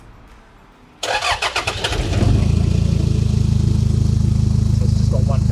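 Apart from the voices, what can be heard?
Toyota 70 series Land Cruiser Prado 4-cylinder diesel exhaust, one resonator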